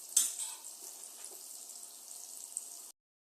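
Pickle ingredients lightly frying in a pan, a soft continuous sizzle with a few stirring scrapes near the start, fairly quiet and close, cutting off abruptly after about three seconds.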